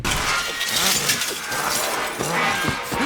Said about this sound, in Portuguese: elas quebram com facilidade e até faz um barulho como se fosse cabos de aço, estourando